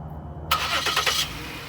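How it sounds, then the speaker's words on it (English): A 2010 Lincoln MKX engine cranks and catches via remote start, a brief close burst of starter whir and ignition that settles into a steady idle hum, with no talking. "you hit it once and you hit it 2 more times and the car will start."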